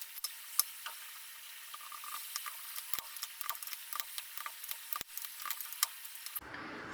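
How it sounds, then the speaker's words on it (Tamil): Poori dough frying in hot oil for beachside masala poori, giving a steady soft sizzle with scattered crackles and light clicks throughout, then a sudden change near the end; no one speaks. "நான் இதை இப்படியே போட்டு எண்ணெயில் போட்டு எடுத்து வச்சுக்கிறேன்."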